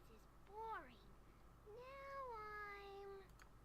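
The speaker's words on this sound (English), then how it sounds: "Cat meow." Two distinct cat meows from the Baldur's Gate 2 video game, a short rising-falling call followed by a longer drawn-out meow, both clear and close over faint background noise.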